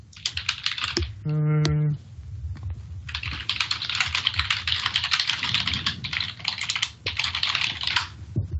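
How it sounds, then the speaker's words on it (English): Fast typing on a computer keyboard clatters close to the microphone in rapid bursts of clicks with short pauses. A brief steady electronic tone sounds early on. "No one is typing furiously."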